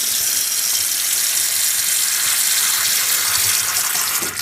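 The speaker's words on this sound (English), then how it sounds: "Clean in this case all these switches with a good load of warm water" Warm water streams steadily from a tap over old oxidized radio switches, a continuous loud hiss of rinsing running through the whole stretch with no voices.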